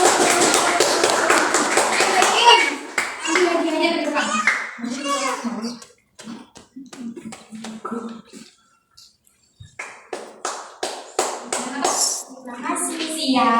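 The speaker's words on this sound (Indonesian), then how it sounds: "Ayo tepuk tangan buat" Children in an Islamic religion class clap together in a burst of sharp, uneven hand claps that follows a stretch of a teacher's speech, with voices still talking between and over the claps.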